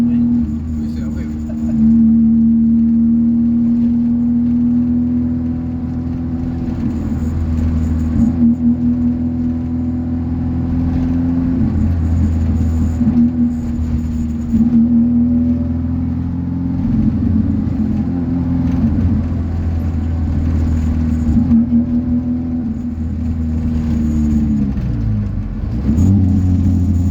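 Ford Fiesta engine heard from inside while driving, a steady mid-pitched hum that rises and falls with light acceleration, with people talking in the cabin throughout.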